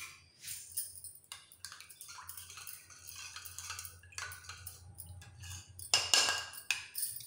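Turmeric powder being stirred into water in a bowl, a spoon clinking and scraping against the dish in a steady, close rhythm with a louder burst of clatter near the end.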